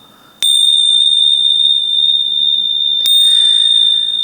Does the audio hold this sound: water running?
no